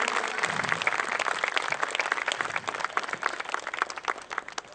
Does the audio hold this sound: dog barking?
no